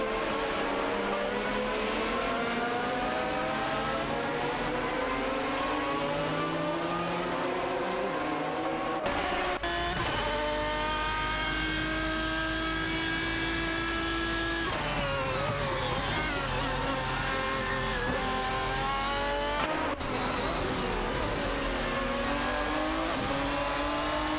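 Video game race cars, including an Aston Martin DBR9 and a Porsche 911 GT2, roar continuously at high revs, engine notes rising and shifting through gear changes, with abrupt cuts between loud passages.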